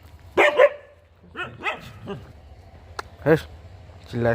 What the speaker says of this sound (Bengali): কুকুরগুলোর ভিডিও করছিলাম ঘেউ ঘেউ করে চিল্লিয়ে দিল